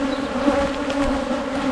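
A honey bee swarm moving into a hive drones in a dense, steady buzz, close and continuous with no voices, a constant hum of many wings filling the air.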